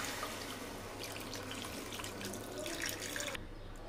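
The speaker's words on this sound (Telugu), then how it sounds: "సో ఈ రసాన్ని మనం ఇలా వంపేసుకోవాలి." Soaked tamarind juice pours into a pan in a soft, continuous watery splash and trickle for a few seconds before cutting off.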